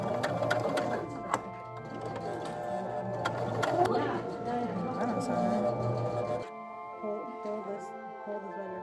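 A home sewing machine running in short bursts, its rapid mechanical ticking and motor hum loud and close, stopping partway, with people talking around it.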